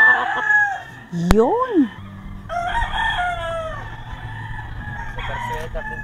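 A bulik rooster crows once up close, a rising and falling call, amid other clucking fowl and farmyard chatter, with a brief voice just before it.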